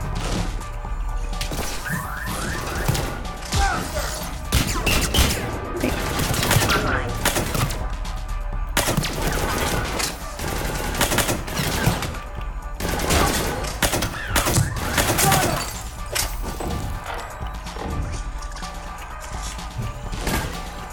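Rapid gunfire from a Mass Effect 3 Citadel DLC firefight, loud overlapping bursts and crashing impacts that come in waves throughout, with brief lulls between volleys.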